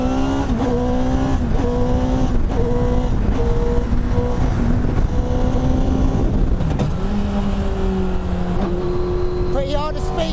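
A Honda CBR1000RR motorcycle engine revs hard during a test drive, its loud rising and falling pitch climbing through gears with short dips between shifts, steady throughout.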